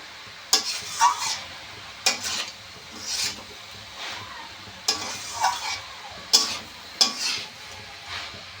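Shredded cabbage being stir-fried with spices in a pan for a vegetarian cabbage dish: about eight scraping, stirring strokes with soft sizzling between them, close and fairly loud, with no talking.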